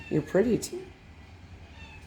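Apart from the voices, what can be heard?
cat meowing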